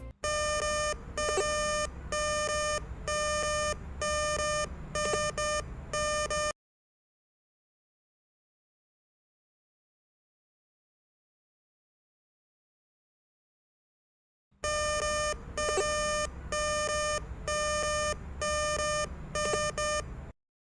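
Titan 400 Smart metal detector beeping on a precious metal signal: rapid bursts of loud electronic tones for about six seconds, a long silence, then the beeping bursts return, close and without talk.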